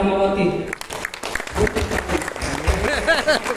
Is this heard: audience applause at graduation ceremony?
yes